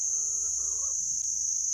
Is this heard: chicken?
yes